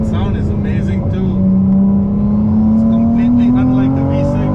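Ferrari 296 GTB engine droning steadily while driving, its pitch climbing gradually as the car pulls harder, loud and close throughout with faint talk at times.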